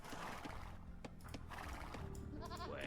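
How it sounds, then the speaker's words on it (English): Goats bleat in the Three Kingdoms strategy game, short animal calls over busy game ambience and background sounds, fairly quiet overall. "We have these precious goats."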